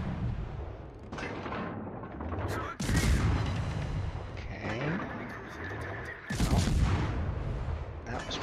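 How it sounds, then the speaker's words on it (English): Rapid, hard-hitting gunfire from a fast-loading weapon in a multiplayer combat video game, with loud bursts and booming blasts at several points over a dense battle din, while a voice talks throughout. "I'm just going to keep shooting at that same spot where he was."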